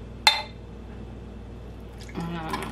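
Homemade cold brew coffee concentrate is poured into a glass: a sharp glassy clink, a quiet pause, then liquid streams in steadily near the end.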